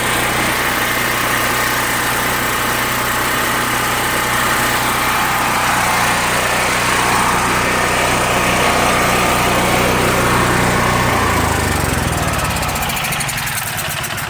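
Small generator engine running on vaporized fuel, a loud, steady droning hum with strong low harmonics, close and continuous, easing slightly in pitch near the end.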